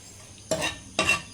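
Two short bursts of crackling sizzle, like seeds hitting hot oil, each lasting about a third of a second.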